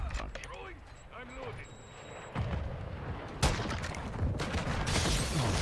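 Sniper rifle shots in Call of Duty ring out as two sharp cracks a second apart, followed by sustained rumbling gunfire, with voices talking over the game sound.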